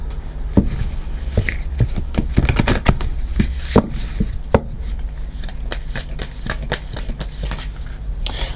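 Tarot cards are shuffled in close, loud bursts of flicking and slapping, with irregular sharp snaps over a steady low background. No talking is heard during the shuffling.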